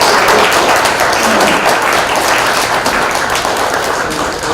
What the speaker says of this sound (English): we need to give another round of applause